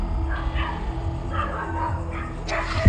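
Dogs bark and yip at a distance in scattered bursts over a steady low hum near a cemetery, with no talking.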